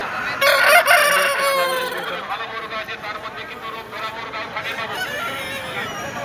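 Chickens and roosters cluck and crow close by at a busy Saturday duck and chicken market, with people talking over the birds throughout.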